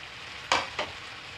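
Roasted chicken is stirred into frying masala, giving a low background sizzle broken by two quick scraping stirs close by.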